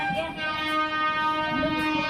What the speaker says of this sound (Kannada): ನೋಡಿ, ನಿಮಗೆ ಇದು ಎಕ್ಸ್ಪ್ರೆಸ್ ಟ್ರೈನ್ ತೋರಿಸ್ತೀನಿ